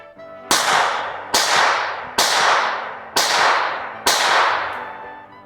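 Five sharp gunshots fire in rapid succession at a pyro-costumed target 15 yards away, each a loud crack with a ringing decay, spaced just under a second apart.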